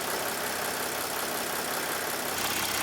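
A 2008 Mercedes GL320 engine idles in the engine bay, a steady, close, loud broadband hum that holds unchanged throughout with no one speaking.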